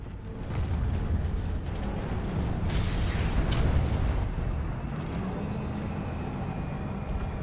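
A Vanguard tank blown up in the Planetside 2 game, a deep rumbling blast that swells after a short quiet start, peaks with bright crackle near the middle and then settles into a low, sustained roar.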